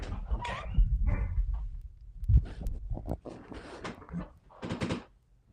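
A pet dog barks and yips in a home during a podcast break, several sharp barks in irregular bursts at close range, fairly loud, with no talk over them.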